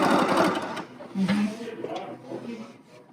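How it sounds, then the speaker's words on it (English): A BERNINA Q Series sit-down quilting machine runs a short stitching burst, its steady mechanical whir heard under and between people talking close by. "you're hitting the foot pedal and you're expecting it to start stitching"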